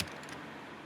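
Computer keyboard while a password is pasted: a single crisp keystroke at the start, then a couple of faint key taps over quiet room tone.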